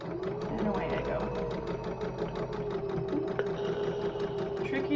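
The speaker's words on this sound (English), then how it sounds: "Take a couple stitches, back stitch, and away I go." Sewing machine running fast and steady, a rapid even rhythm of stitching that continues with a brief back stitch, close and moderately loud, with no talk over it.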